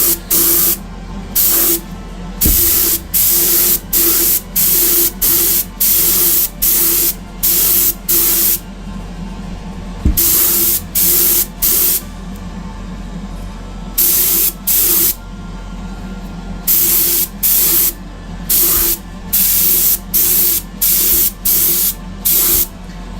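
Airbrush spraying base coat into the inside of a Greek-style vase, loud close bursts of airy hiss in quick repeated pulses with short gaps between them.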